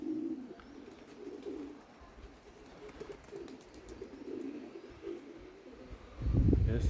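Young pigeons cooing in a loft, soft repeated low coos in a steady rhythm close by, ending with a louder rumbling burst.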